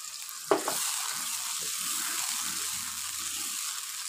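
Onions and tomatoes cooking in a pan with a little water for palak gosht are stirred, opening with a sharp scrape and clank, followed by a soft, steady sizzling and bubbling.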